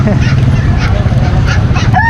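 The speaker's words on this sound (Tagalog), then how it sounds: "Tsaka ito, gansa." Geese honking amid a noisy crowd at an animal market, a few nasal calls rising over steady chatter and a low rumbling background.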